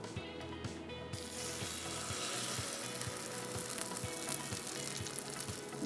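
Potato French toast fries in hot oil in a pan, a dense, steady sizzle with faint rhythmic ticking underneath, close and continuous with no voices.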